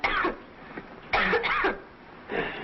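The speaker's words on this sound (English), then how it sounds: "that's quite a cough you've got there, son" A boy coughing in short harsh bursts, three separate fits of rough throaty coughs with brief gaps between them, close and clear with no talking.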